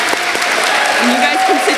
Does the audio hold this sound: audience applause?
yes